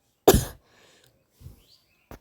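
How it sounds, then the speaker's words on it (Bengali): A pregnant woman coughs during her baby shower celebration. One sharp, loud cough comes first, followed by a couple of much fainter, short coughs in an otherwise quiet room. "একটু কাশি কাশি হয়ে গেছে,"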